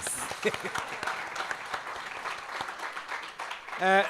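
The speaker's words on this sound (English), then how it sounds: "can you please give yourself a round of applause?" Audience applause for speakers at a governance dialogue event: scattered, fairly soft clapping in a room that thins out over a few seconds, with a voice starting to speak at the very end.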